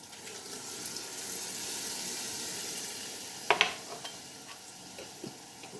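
A pot of meat sizzling on the stove as 28 ounces of petite diced tomatoes go in, a steady frying hiss with a sharp wet splash partway through and a few light clinks after.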